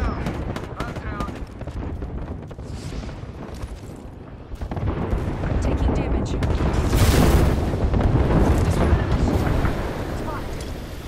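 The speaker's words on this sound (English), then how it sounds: "Watch an airstrike." Airstrike explosions in a video game boom heavily in a dense, rumbling barrage, building louder after the first few seconds and peaking mid-clip with a sharp blast, under faint game chatter.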